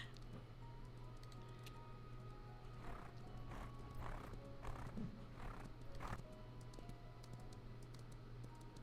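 Horse whinnies and hoof clip-clops from the Ranch of Rivershine video game, a few soft bursts in the middle over a steady low hum, moderately faint.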